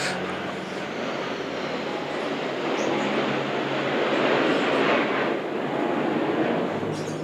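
An airplane flies overhead outdoors, its broad, rushing roar swelling toward the middle of the pass and easing off again.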